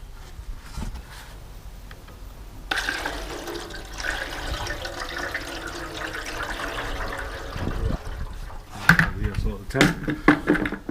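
A dissolved chemical solution pours into a funnel on a GS1000 motorcycle tank, a steady watery rush and trickle that continues for several seconds before a voice briefly speaks.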